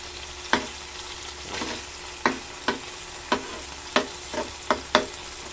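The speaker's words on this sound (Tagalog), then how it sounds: "So, pwede na natin ilagay ang ating bawang." Garlic dropped into hot oil for chicken adobo, with a steady background sizzle and a series of sharp, distinct stirring clatters spaced through the stretch, close and fairly quiet.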